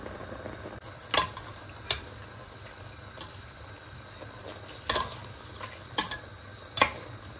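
Chicken mince being mixed with black pepper and salt in a pan, a quiet low background hum broken by occasional sharp scrapes and clinks of a spoon against the pan, faint and close.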